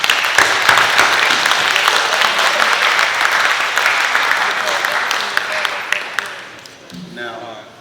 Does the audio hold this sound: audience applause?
yes